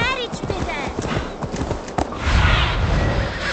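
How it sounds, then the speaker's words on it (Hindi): Horse hooves clip-clop at a slow walk through a village in the video game Assassin's Creed Valhalla, a steady rhythmic patter under continuous speech, with a brief whinny. "घोड़ा भाई यार गांव में स्लो चलते हो यार"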